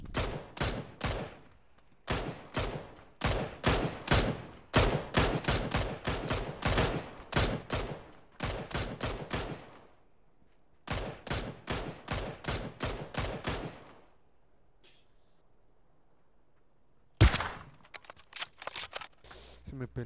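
Bursts of gunfire from a PUBG battle royale match, rapid strings of sharp, loud shots in repeated volleys with short pauses, then a final close blast after a quiet stretch.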